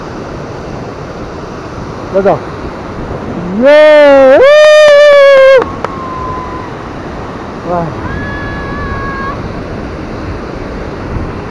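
Rushing water from Rupse waterfall pours in a loud, constant roar throughout, while a man exclaims loudly over it and a few short vocal sounds cut in partway.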